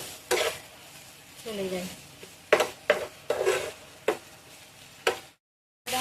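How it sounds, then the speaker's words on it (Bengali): Ginger, garlic and onion fry in a pan while a spoon stirs, giving sharp scraping knocks over a soft sizzle. Someone speaks briefly during the cooking. "এবার আমি আদা রসুন আর পেঁয়াজটাকে ভালো করে ভেজে নেব"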